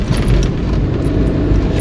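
Toyota Avanza car jolting over a deep pothole, a steady low road rumble with dense low-end thumps and cabin noise throughout, no talking.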